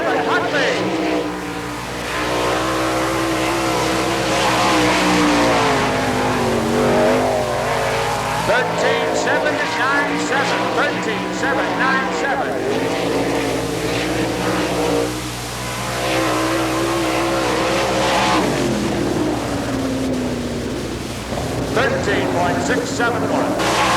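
Sprint race car number 7 of the Rick Dory Racing Team, driven by Kevin Huntley, running a lap at Gibsonton, Florida, loud engine roaring and revving steadily with rising and falling pitch through the corners, with a public-address announcer talking over it throughout.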